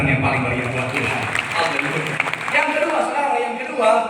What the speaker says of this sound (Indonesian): Boleh berikan tepuk tangan yang paling meriah dulu waktu.